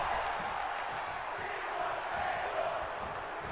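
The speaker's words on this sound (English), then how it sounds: "The crowd are chanting, "We want tables."" A wrestling arena crowd in the WWE 2K22 video game roars and chants in a steady, dense wash of massed voices, loud and continuous across the whole stretch.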